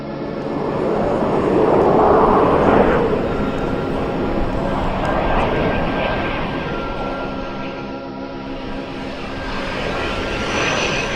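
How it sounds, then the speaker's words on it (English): RAF Phantom jets flying near a Victor tanker during in-flight refuelling give a steady, loud aircraft engine roar with a broad rushing wash that swells and eases slightly, without speech. "At the rendezvous point, the Phantoms wait while the refueling hose reels out."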